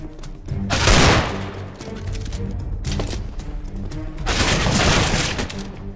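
Bursts of gunfire ring out in a competitive Counter-Strike: Global Offensive match, with sharp repeated shots in two louder volleys around a stretch of steady clatter, close and dense.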